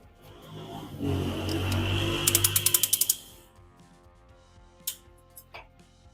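Ratchet tool clicks around piston rings during a Toyota RAV4 3SFE engine rebuild: a quick run of about ten sharp, evenly spaced clicks over a low mechanical hum, followed later by a couple of isolated metallic taps.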